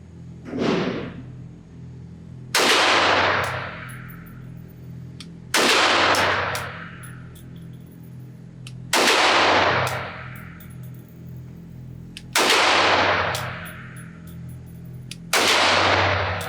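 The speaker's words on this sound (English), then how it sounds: "now I'm going to give my wife Becky a shot to shoot this" Five loud, sharp .22 Winchester Magnum pistol shots from a Kel-Tec PMR-30 at an outdoor range, each a crisp crack with a brief metallic ring, spaced roughly three seconds apart after an initial softer thump.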